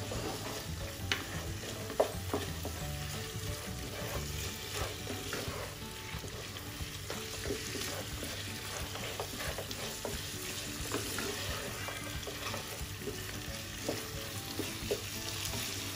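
Beef kaldereta with tomato sauce stirred in a pan: a steady, dense sizzle throughout, with frequent scraping and stirring clicks close by and no talking.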